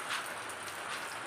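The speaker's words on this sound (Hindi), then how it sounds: "तो देखिए कितना बारिश हो रहा है" Heavy rain falls in a rural Indian village, a steady, even hiss with no breaks and no voices, moderately quiet throughout.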